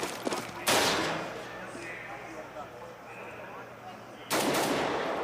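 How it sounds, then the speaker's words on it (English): Auto sniper rifle gunfire in Counter-Strike on the Mirage map during a DreamHack tournament match, two loud sharp shots seconds apart over a low game background. "Device's auto sniper downs Edward"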